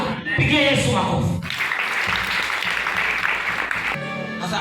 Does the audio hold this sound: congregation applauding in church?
yes